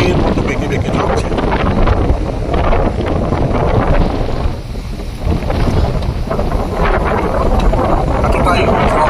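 Strong wind roars across Havelock Island, bending coconut palms and other trees; a loud, steady buffeting rush close to the microphone, briefly easing mid-way before surging back, with no speech.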